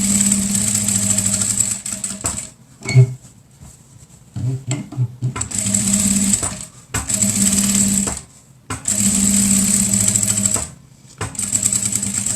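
Sewing machine stitching a 3D cloth face mask, running in several steady bursts of a few seconds each, separated by short pauses with handling clicks and knocks.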